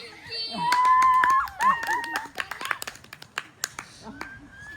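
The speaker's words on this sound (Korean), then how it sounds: "박수." Group hand clapping at a counting exercise with children, a rhythmic burst of claps followed by scattered individual claps, with children's voices and whistle-like tones early on.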